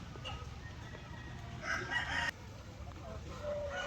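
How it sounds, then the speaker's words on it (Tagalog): A farm rooster kept for breeding crows once at close range, a clear, loud call rising over steady low background noise. "so ito yung huli nating rooster na gamitin mga ka-farmers"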